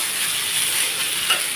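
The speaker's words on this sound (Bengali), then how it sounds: "তো এটাও আমার সুন্দর একটু ভাজা ভাজা হয়ে নিতে হচ্ছে দেখুন" Snake gourd frying in oil in a pan gives a steady, close, bright sizzle with no break, plus a faint stir or scrape near the end.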